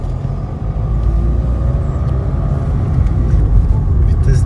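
Car pulling away in first gear during a driving lesson, with a steady low engine rumble and road noise heard from inside the cabin, loud and continuous.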